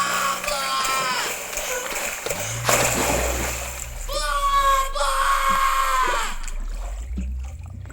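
Water splashes and churns under dramatic orchestral music, with strained voices and a shout mixed in, as a boat sinks in a scene from the film The Return.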